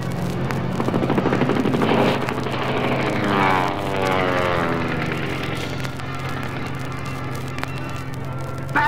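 A propeller airplane engine drones and swells as it draws closer, its pitch sweeping audibly, with rapid gunfire-like rattling mixed in.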